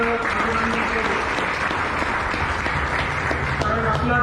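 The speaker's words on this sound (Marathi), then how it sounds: "टाळ्या वाजवून त्याचं अभिनंदन करू" Steady audience applause at a cycling club's first anniversary gathering, congratulating an Olympic gold medallist; dense, even clapping fills the whole stretch with crowd murmur beneath.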